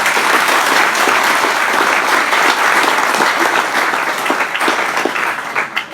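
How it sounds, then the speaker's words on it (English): Applause from the audience at a city's annual state of the city address, a dense, loud round of clapping that holds steady for several seconds before thinning toward the end. "give them a round of applause"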